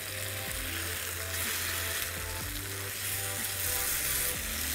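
Lamb steaks fry in a pan outdoors by the water, giving a steady close hiss of sizzling fat with a faint hum running underneath.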